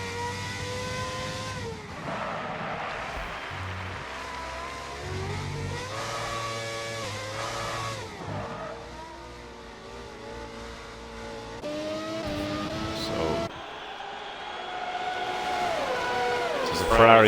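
Race car engines whine and rev in an F1 racing video game with 90s McLaren cars, with wheel spin on a hard track, a steady layered engine drone with shifting pitch throughout, under continuous commentary talk.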